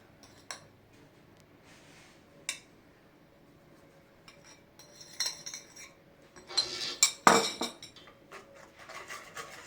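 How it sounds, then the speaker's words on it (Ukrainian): A spoon scrapes and clinks in a bowl while honey cake batter made with honey, sugar and soda is stirred briskly. The sounds are quiet at first, then grow busier and louder, with scattered rubbing and clinking. "Перемішуємо швиденько."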